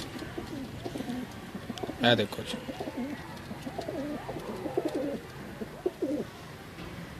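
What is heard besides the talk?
pigeons cooing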